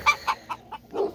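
A rooster gives a series of short, throaty clucks in an uneven rhythm, close by, with no talking.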